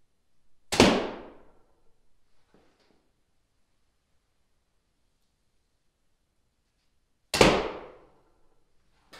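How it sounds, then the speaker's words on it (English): Two sharp bow shots from a 58-inch Solomon traditional recurve, each a loud close snap and thrum that quickly decays, spaced several seconds apart with faint arrow impacts between and quiet otherwise. "We'll take a few shots here with the 58-inch Solomon and give you a feel for what it"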